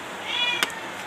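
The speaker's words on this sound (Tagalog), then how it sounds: "Naku, ang pusa ko, guys. Iyak na" A pet cat gives a single drawn-out meow, close and fairly clear, over a soft background hiss with a short sharp click near the end; no one talks.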